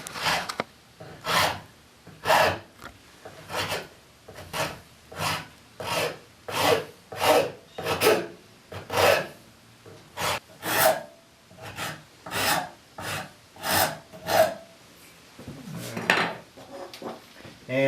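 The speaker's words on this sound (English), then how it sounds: "These are the Nicholson rasp, the 49 and the 50, and they have like teeth that are not in a pattern" A Nicholson No. 49 or 50 rasp carves the knuckles of a wooden chair's handholds, with about eighteen loud, close, rhythmic rasping strokes evenly spaced and heard alone.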